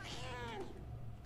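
A cat meows within the video game Murdered: Soul Suspect, one short rising-then-falling cry over steady game background hum, with a voice talking alongside.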